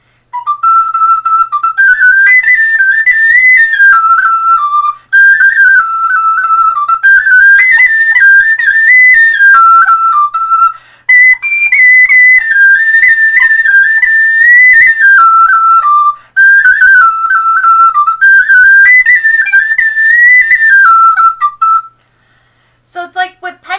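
A self-taught player's penny whistle carries the folk tune Star of the County Down, a bright, steady melody of breathy held and stepping notes phrased in repeated lines for about twenty seconds, close and loud, with no talking.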